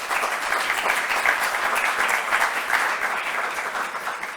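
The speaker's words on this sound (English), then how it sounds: "Let's make a round of applause for them once more." Audience applause closes the Tallinn Digital Twin Conference: dense, steady clapping from a room full of people, holding at an even loudness throughout with no voices over it.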